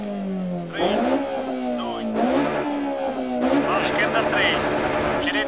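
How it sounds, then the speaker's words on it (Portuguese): A BMW E30 M3 Evo rally car from the racing game Dirt Rally roars through repeated rising revs and gear changes, loud and continuous, with someone talking excitedly over the engine. "Olha o que berra essa BMW."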